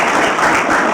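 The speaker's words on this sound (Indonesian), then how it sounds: "Tepuk tangan sekali lagi untuk itu" Audience applause fills a brief moment at an evening Indonesian TV show, greeting violin maestro Idris Sardi: a dense, steady wash of many hands clapping close by, with no pauses.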